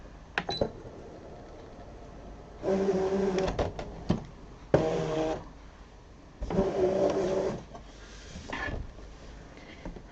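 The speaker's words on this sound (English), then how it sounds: "And I'm going to load that back into my machine." A Brother ScanNCut cutting machine draws in its mat in several bursts of mechanical whirring and rolling, broken by short clicks and pauses, close and fairly loud with no talking.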